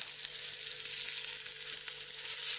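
Trout sizzling steadily in a frying pan after being turned onto its other side, a continuous bright hiss of hot oil with no voices.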